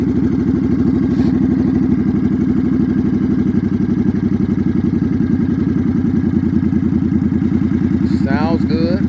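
A custom Suzuki Boulevard C50 motorcycle engine runs steadily and loudly up close, a continuous deep throbbing idle that holds throughout, with a brief higher chirp near the end.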